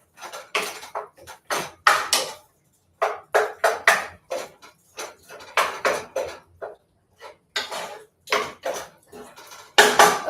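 A utensil stirs tomato sauce in a metal cooking pot for a Cuban dinner recipe, making steady, repeated scraping clinks against the sides, close and fairly loud, with brief pauses and no talk.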